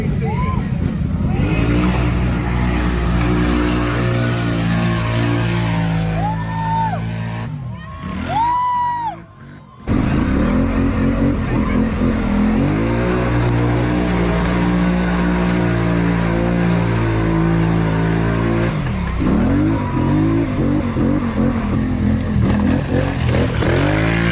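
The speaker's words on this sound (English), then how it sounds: "the gearing in low without the gear reduction on this ATV lets the RPMs or whatever just be perfect to where the full sends are just very, very nice" An ATV with low gearing and no gear reduction, run at full throttle, gives a loud, continuous engine roar with rising and falling revs through most of the stretch, a brief dip near the middle, then sustained high revving again.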